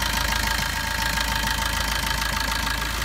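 A used car's engine idles during an inspection with the oil dipstick pulled out, giving a steady, close, loud running drone with a faint rough knocking texture throughout.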